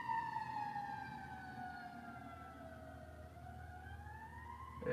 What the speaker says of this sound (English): Yeah, that's a fire truck.